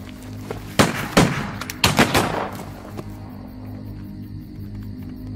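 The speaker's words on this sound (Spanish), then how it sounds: "A la de tres, empezamos a disparar." Several loud gunshots crack in quick succession close by, in two clusters of sharp bursts, then fade into a quiet hum with faint insect-like chirping.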